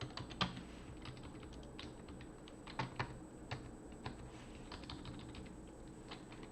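Someone types Go code on a computer keyboard, a quiet, steady patter of keystrokes with a few sharper taps standing out. The typing is close but soft, and no voice is heard over it.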